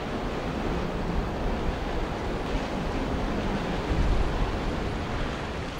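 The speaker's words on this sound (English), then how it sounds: "the lake bubbles and growls behind its low wall" Lava lake in the crater of Mount Nyiragongo volcano, a steady loud rumbling roar with churning, surf-like bubbling and growling, continuous throughout and swelling slightly near the end.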